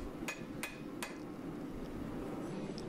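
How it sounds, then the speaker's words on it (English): Hammer blows on saw-chip steel during a forge weld without flux: three sharp, ringing metallic strikes close together in the first second, then steady forge roar with no more impacts. "Initial light blows, and then slightly harder blows once I felt like I had a good forge weld."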